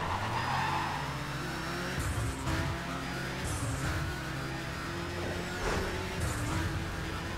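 A BMW Z4 GT3 race car engine revs and roars in Need For Speed World, with gear shifts, rising and falling pitch, and occasional tire squeal, no talking.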